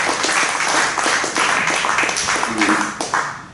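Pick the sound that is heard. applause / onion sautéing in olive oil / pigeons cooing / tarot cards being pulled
applause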